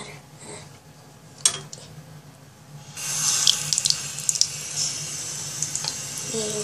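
A bathroom tap is turned on and water runs steadily into a sink during tooth brushing, a close hiss that starts partway through after quieter handling noises.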